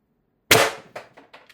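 A single sharp crack from a Beeman BP50 CO2 air rifle carbine with a 16-inch barrel and suppressor, followed by a few short metallic rattles and echoes.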